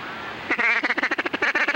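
Duck call blown at a duck hunt, giving a quick series of about a dozen loud, high-pitched quacks in choppy rhythm after a brief quiet start, close and alone.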